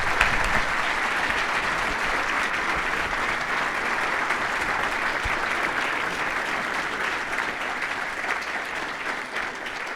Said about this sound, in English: Let's give Zanaya another round of applause.